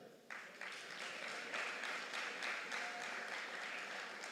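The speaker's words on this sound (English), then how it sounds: "Clap." Applause swells at a secondary school graduation ceremony, starting quietly then rising into a full, even wash of clapping from the audience that holds to the end.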